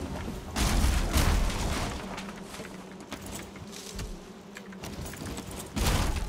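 Bees buzzing around hives in the survival game Valheim, packed near a wall: a steady insect drone with low-pitched thumps and booms cutting in at intervals, moderately loud, with no speech.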